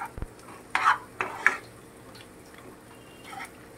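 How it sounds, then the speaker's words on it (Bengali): Coriander leaves are stirred into fish curry in a pan with a few scraping strokes over a soft background sizzle, close by and without talk. "প্রথমে একটু ধনেপাতা দিয়ে একটু নাড়িয়ে নেবে"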